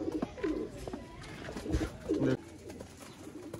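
Several pigeons of a Narowal-style flying set coo close by in a few throaty, bubbling phrases, with light rustling and knocks between calls and a quieter tail.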